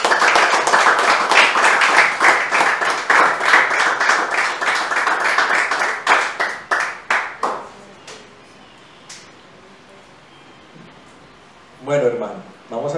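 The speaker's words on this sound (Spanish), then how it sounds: "Y un aplauso al Señor, hermano." A church congregation claps in loud, rapid applause for several seconds that thins into scattered claps and fades out, followed by quiet and then a voice speaking.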